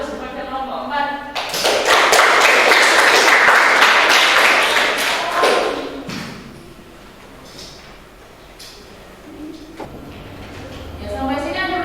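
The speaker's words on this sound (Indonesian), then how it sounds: "kita berikan aplaus kepada kelompok 4" Classroom applause for a student group, a dense burst of clapping from many hands that swells loud for several seconds, then thins into scattered taps and shuffling, with voices murmuring near the end.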